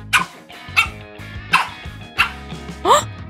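A dog barks close by in five sharp, evenly spaced barks, the last one higher and whining, loud against a quiet backdrop of music.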